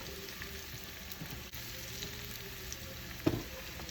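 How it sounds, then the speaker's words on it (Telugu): Red chili powder sizzles softly in hot tempering oil for a horse gram soup, a low steady frying hiss with a single small clink of a utensil near the end. "కొద్దిగా ఎండుకారం వేసుకుందాం"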